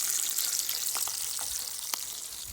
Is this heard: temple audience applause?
no